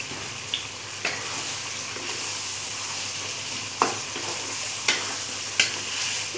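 Chicken with boiled bottle gourd (ghiya) being stirred in a frying pot over browned spices, a steady low sizzle with a few sharp spoon scrapes and clinks against the pot, no talking.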